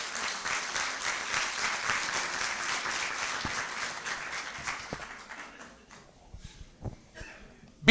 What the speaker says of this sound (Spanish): ¿Le dan un aplauso al Señor por su palabra?